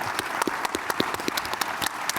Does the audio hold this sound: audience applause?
yes